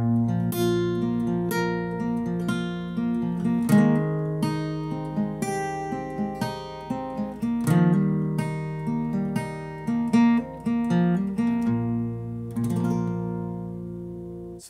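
Acoustic guitar fingerpicking the verse pattern of a song, with open strings and fretted bass notes ringing together in a steady, close, clear rolling rhythm, played alone with no voices.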